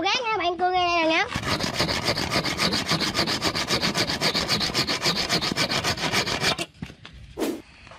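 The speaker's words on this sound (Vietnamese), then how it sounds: "Sẽ cưa cái cây này để làm đồ gác nha bạn, cưa ngay đây nè nha." A handsaw cuts through a bamboo pole with quick, rhythmic back-and-forth rasping strokes, loud and close, preceded by a brief voice and ending in a few scattered knocks.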